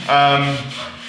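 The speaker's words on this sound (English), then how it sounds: "this is sanding, it's creating loads of minor particles" Power sander running on wooden vegetable garden signs, a steady loud whirring abrasive rub with a tonal hum that starts abruptly and holds for about a second before easing slightly, with no talk.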